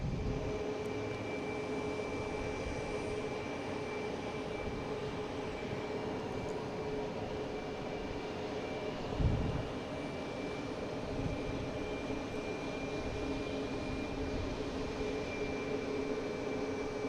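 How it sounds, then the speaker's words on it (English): Airbus A321 jet arriving in a video game, a steady low engine rumble and drone with a thin high whine held throughout, moderately distant, with one brief thump midway and no talk. "I have an A321 coming in from LAX."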